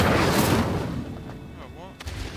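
A fiery Incendio spell is cast in Hogwarts Legacy. It lands as a loud, roaring burst at the outset that fades over about a second, followed by fainter crackles and a brief voice.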